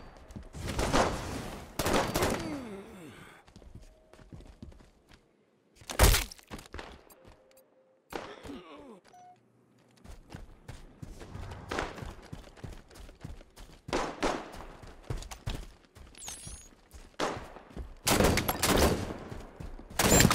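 Gunfire in a Halo 5 SWAT match, sharp isolated single shots and short bursts separated by quieter gaps, with faint footsteps and game effects between them.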